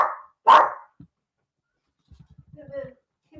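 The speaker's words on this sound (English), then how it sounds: "Why are you barking?" A small dog named Teddy gives a single sharp bark near the start, followed by softer, scattered vocal sounds and a faint whimper from the animal; no other sounds stand out.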